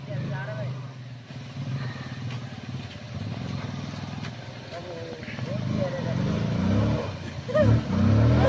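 An off-road motorcycle engine revs and strains as the bike is pulled out on a rough trail, rising louder toward the end, with people talking over it throughout.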